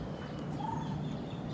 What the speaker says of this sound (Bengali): বিভিন্ন পাখির ডাক আপনারা শুনতে পাচ্ছেন।